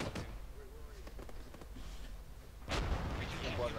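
Gunfire in the military shooter Arma 3, with scattered sharp shots and distant cracks followed by a louder burst of fire, heard behind quiet voices.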